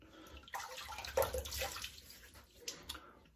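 Water running and splashing as a boar shaving brush is wetted, likely at a tap, with soft irregular splashes and trickling close by, a brief louder burst in the middle and no talk.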